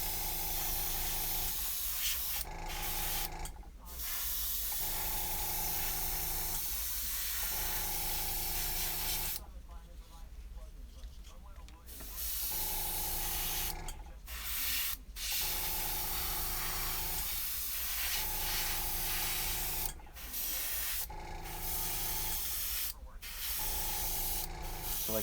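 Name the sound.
airbrush spraying paint on a wooden eagle walking staff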